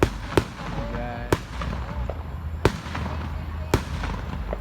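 Fourth of July fireworks bursting outdoors, four sharp explosive booms spaced a second or so apart, with crackle and whistling between them over a faint background murmur.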